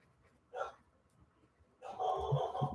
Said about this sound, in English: Dog's barking her head off for something.